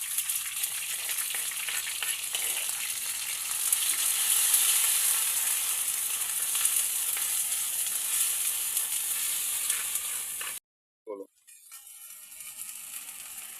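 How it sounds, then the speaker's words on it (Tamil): Ground spice paste hits hot oil for a Chinese-style fish curry and sizzles steadily and loudly for about ten seconds, then cuts off abruptly, followed by a brief clunk and a faint, quieter hiss. "பிற்பாடு நம்ம அரைச்சி வச்சதை போட்டு நல்லா தாளிச்சுக்குவோம்."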